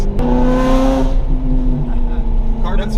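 A Ferrari with rear-wheel drive revs hard and loud close by, the engine note rising then easing off as it pulls away, with a voice talking over part of it.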